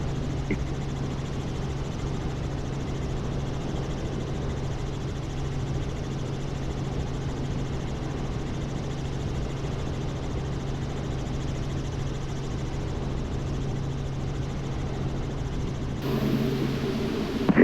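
A steady low engine drone with a constant hum, like a helicopter heard from inside the cabin, continuing evenly throughout.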